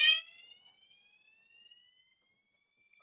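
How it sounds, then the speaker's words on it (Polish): An apartment alarm goes off with a sharp burst and then a thin high electronic tone that slowly rises and fades away, faint and alone with no voices. "włączył się alarm, tylko nie bardzo wiem, dlaczego on się włączył"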